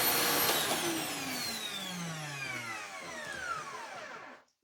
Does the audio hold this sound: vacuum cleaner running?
yes